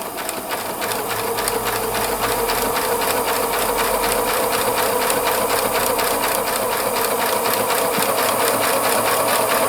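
A Pfaff Classic Style sewing machine stitching a buttonhole, running steadily with a fast, even mechanical clatter and whir throughout, close and fairly loud, with no talking.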